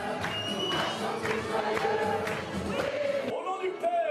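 A crowd exults at a large evangelical church service in France, a dense, steady wash of voices and cheering with tonal, singing-like calls rising throughout, loud and close.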